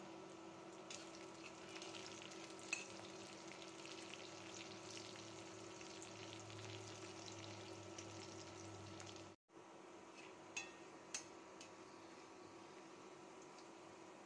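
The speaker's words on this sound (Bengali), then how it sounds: "পেঁয়াজ আর একটু ভেজে নেব, গোল্ডেন ব্রাউন করে পেঁয়াজ ভেজে নেব।" Sliced onions fry in oil with cardamom, cinnamon and bay leaf, giving a steady, soft sizzle that runs almost unbroken apart from one brief gap, with a few faint clicks.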